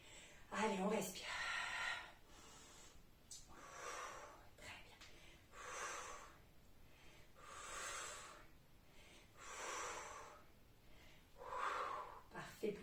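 Slow, rhythmic breathing during a seniors' arm exercise, with audible breaths recurring about every two seconds, close and soft, some sounding slightly nasal or wheezy. No one speaks.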